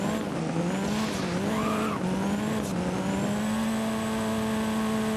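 The KTM Etzvo GT4 Evo in the game Driving Empire, its engine holding a steady high-pitched whine that dips and climbs again with shifts, heard alone at moderate volume.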